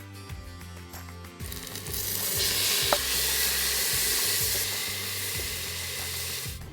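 Onions and tomatoes fry in a pan, with a quiet start followed by a loud, steady, close sizzle that fills the rest of the clip, punctuated by a brief stirring clink.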